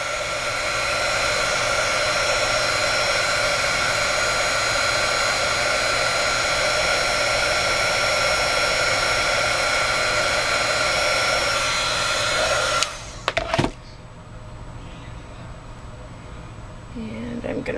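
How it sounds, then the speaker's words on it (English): Heat embossing tool blowing hot air during card making, a steady loud whooshing drone that runs for about thirteen seconds, then cuts off with a click and a quieter room afterward. "pull my heat tool in here"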